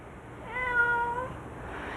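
A five-year-old calico tabby cat gives a single drawn-out meow, clear and close, rising then falling over a quiet room.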